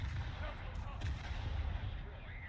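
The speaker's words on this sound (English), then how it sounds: "The Belfast is shooting at me, actually." Naval gunfire from the Belfast cruiser in War Thunder, a continuous rumble of heavy shots and low booms layered with distant blasts, steady and dense throughout.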